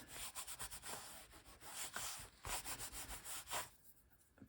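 Paper being burnished down by hand, a dry rubbing and scraping in quick repeated strokes, close and fairly quiet, with short pauses between bursts.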